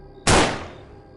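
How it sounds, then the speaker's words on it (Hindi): A pistol shot fired in a forest at night, heard as one sudden, loud, sharp bang followed by a broad echo that fades over about a second, standing alone without voices. "लेकिन गोली की आवाज जंगल में गूंज गई"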